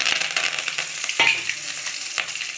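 Urad dal, cumin, cashews, dried chillies and curry leaves tempering in hot oil, a bright crackling sizzle with a few sharp spatters and stirring scrapes over a couple of seconds.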